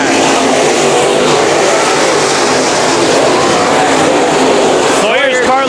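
IMCA Modified race cars roar around Bakersfield Speedway in a loud, continuous pack drone, engines howling as they pass, with a commentator talking over the racing.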